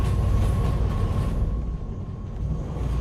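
A train rolls along in the DV Sim video game, a steady low rumble with a hum and mechanical clatter running continuously and fairly loud, with no talking over it.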